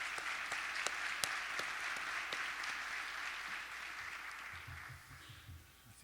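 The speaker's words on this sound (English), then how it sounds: "So I'd love to give them a round of applause." A small audience at a morning business talk claps together, a steady patter of applause with a few sharp louder claps near the start, fading out after about five seconds.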